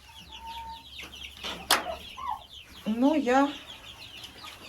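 Hens and chicks clucking among fresh grass in a Ukrainian village garden, a run of rising clucks and chirps near and fairly loud, with brief speech over part of it.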